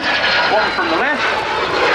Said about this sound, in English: the jet-powered Strikemaster was much quicker than the piston engine Promise